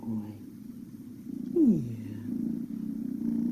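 A cat purrs steadily in a low, rumbling drone, close by, with a brief rising whine partway through.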